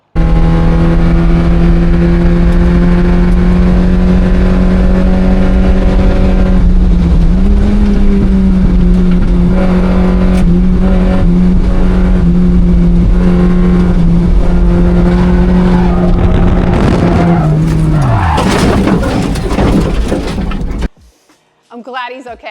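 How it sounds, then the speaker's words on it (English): Miata race car driving on a racetrack, its engine droning steadily at high revs in-car, close and loud, with pitch shifts through gear changes before a rough, sudden stop. "it's really cool to see your own car drive on the racetrack"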